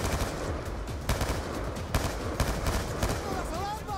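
Rapid automatic gunfire in the video game Black Ops 2, dense bursts of shots rattling continuously under game noise with a voice faintly present.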